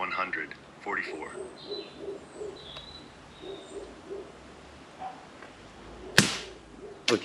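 Umarex Canex 5.5mm CO2 air rifle fired with a spent CO2 cartridge gives a sharp, weak pop, followed by a second smaller click, against quiet outdoor background with faint bird calls.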